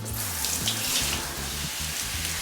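Tap water runs steadily into a sink while conditioner is rinsed out of hair, a continuous near splash with low gurgling underneath and no talk.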